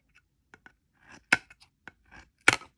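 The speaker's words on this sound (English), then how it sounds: "I'm just going to start to cut this thick cord here" Scissors snip through the thick cord of a wide beaded cuff bracelet on a bead loom: two loud, close cuts about a second apart, with a few soft clicks and handling taps between them.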